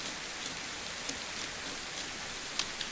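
Steady rain in the video game DayZ hisses down evenly, with a few louder drops pattering on a surface; no voices.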